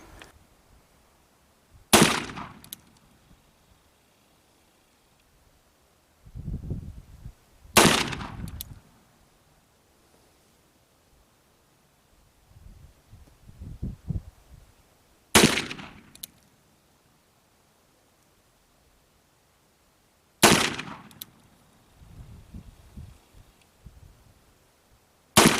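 An 1858 Remington Navy black powder revolver fires four sharp, loud shots spaced several seconds apart outdoors, each followed by a lingering decay and quieter handling sounds between.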